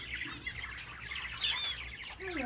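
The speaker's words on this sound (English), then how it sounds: "You're a pretty bird. You're colorful." Colorful pet talking bird squawking and chirping up close, with a string of short, shrill calls over a low background.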